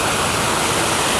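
Clean stream water flowing, a loud, steady rushing wash close by, unbroken throughout.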